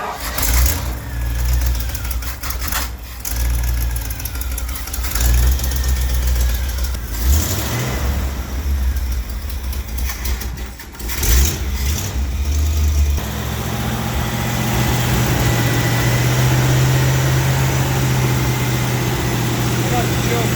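An old beater car engine runs with a steady low rumble and a slight exhaust leak, close by, with occasional revs while people talk over it.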